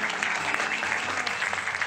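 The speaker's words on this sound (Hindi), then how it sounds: "ताली बजाओ तुम लोग" Audience applause at a religious gathering, a steady continuous clatter of many hands clapping throughout the short stretch with no talk over it.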